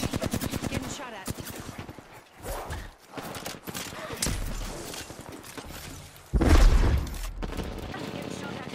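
Rapid automatic gunfire crackles in bursts during an Apex Legends match, with a heavy, loud volley near the end, mixed with game effects and talk over the top.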